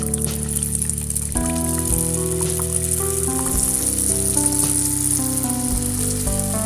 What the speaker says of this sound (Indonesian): Lanjut goreng sisanya.